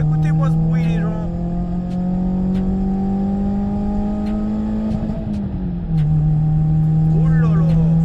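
A Renault Mégane engine revs up and holds a steady, loud drone on its own while idling, the pitch climbing, dipping near the end, then settling again, close by with no talk over it.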